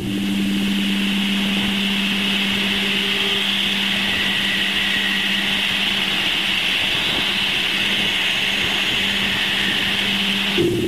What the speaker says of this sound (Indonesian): ini adalah musik dari magnetosfer Uranus